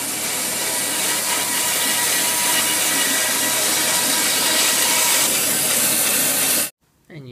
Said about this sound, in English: you just use the bandsaw to cut your bun